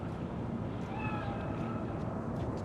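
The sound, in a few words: cat meowing in Cyberpunk 2077 video game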